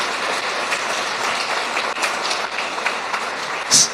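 A congregation claps hands together during a Spanish-language church service, giving a dense, continuous wash of clapping that stays loud and close throughout.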